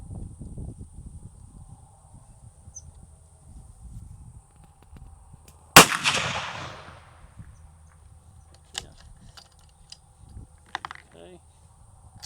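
A single sharp, loud rifle shot from a 6.5 Creedmoor fitted with a CanCo suppressor cracks out midway through, trailing off in a brief decaying echo, with quiet outdoor background and a few small clicks afterward.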